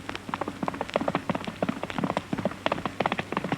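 Hooves of a single horse clip-clop in a quick, uneven rhythm of sharp clicks, close and moderately loud for a few seconds.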